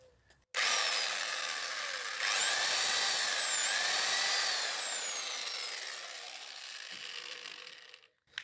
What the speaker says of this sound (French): Je prends une mèche bien plus grande de 10 mm. Et là, par contre, c'est sans percussion